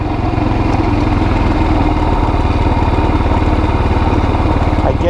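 Kazuma Jaguar 500 4x4 ATV engine running lean from a fuel delivery problem, a loud close uneven putter with a rough pulsing idle rhythm, no voices.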